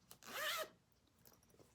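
A zipper on a quilted fabric bag is pulled open or closed in one quick, close pull lasting about half a second, followed by faint rustling and small handling sounds.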